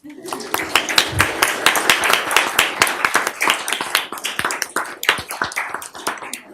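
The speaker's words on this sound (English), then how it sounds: "And now applause." Applause from a modest audience in a county commissioners court chamber, a steady patter of individual hand claps lasting several seconds, fairly close and loud, with no talk.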